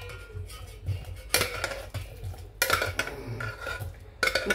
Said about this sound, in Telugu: ఇవి ముక్కలు వచ్చి గిన్నెలోకి వేసుకుందామండి.